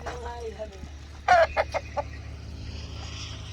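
Pure Aseel and native village chickens on a farm clucking in short bursts nearby, with a few louder squawks over a quiet outdoor background.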